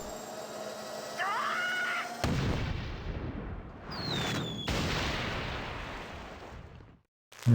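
Cannon fire at a cracked wall in the 1996 claymation game The Neverhood, a sudden heavy boom followed by rumbling, whistling tones and another blast, with short cartoonish effects and brief silence before a final hit.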